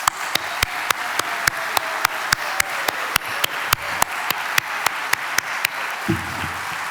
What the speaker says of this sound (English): Please help me give my wife, Robin, and our children a round of applause.